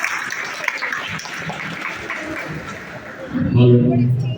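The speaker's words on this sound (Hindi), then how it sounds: "एक बार संजीव सर के लिए जोरदार तालियां" At a college honours ceremony, an audience claps in a steady wash of applause while a voice talks over it, ending as speech takes over.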